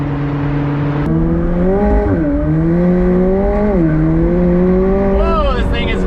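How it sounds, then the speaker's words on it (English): McLaren 765LT Spider exhaust roaring loud and close as the car accelerates, engine pitch climbing through gears with brief dips at shifts, a steady sustained blare with no talk. "That extra exhaust note is just awesome"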